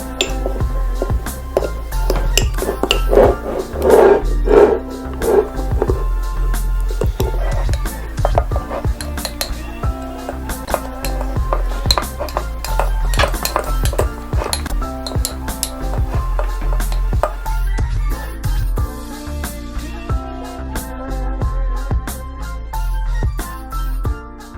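Chocolate brownie batter whisked in a mug for a microwave recipe: continuous rapid metallic clinking and scraping of a whisk against the mug, loud and close, running without a break.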